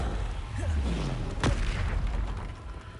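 A Confringo blasting spell in Hogwarts Legacy lands with a sharp, explosive burst midway through, set among swooshing spell effects and low rumbling game sounds.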